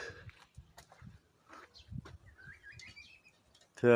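Penned young chicks give thin, high chirps, including one rising peep, scattered faintly over a low murmur of nearby voices.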